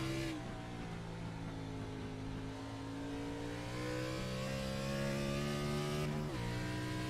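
In-car ride aboard the leading Blackhawk Motorsports NextGen race car at Road America, its engine droning loud and close with steady harmonics that climb through a gear, then dip sharply on a shift near the end.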